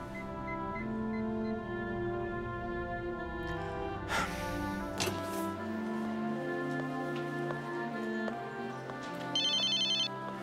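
A telephone ringtone plays steadily for about ten seconds, loud and close, a sustained melodic tone with a brief burst of noise partway through and no talking over it.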